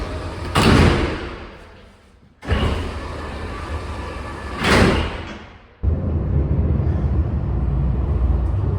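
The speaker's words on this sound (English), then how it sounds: "the funicular doors will close very shortly" Funicular doors at Paral·lel Station in Barcelona slide shut, with two loud thudding closures a few seconds apart over steady station rumble, followed by a continuous low hum as the car waits.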